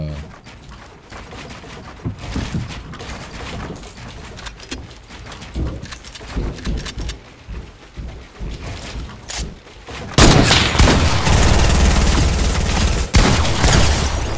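Shotgun gunfire from the Fortnite video game, with scattered shots and game sounds early on and then a dense, loud burst of blasts in the last few seconds.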